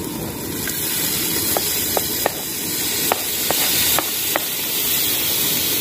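Chopped tomatoes go into a hot pan for catla fish curry, and a steady, close sizzling hiss carries on throughout, with a few faint ticks and clicks along the way.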